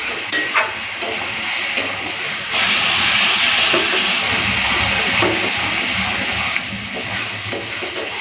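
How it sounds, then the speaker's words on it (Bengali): Ginger-garlic paste fries and hisses in hot oil in a pan, a close, steady sizzle that swells louder midway with occasional stirring clinks. "তো আদা রসুনটা দিয়ে দেওয়ার পর একটুখানি ভেজে নেব, যাতে আদা রসুনের কাঁচা গন্ধটা চলে যায়।"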